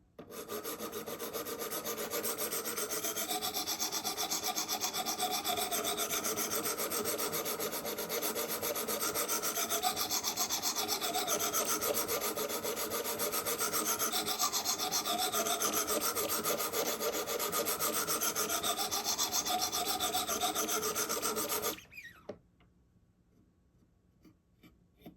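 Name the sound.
sharpening Benchmade knife on Wicked Edge sharpening system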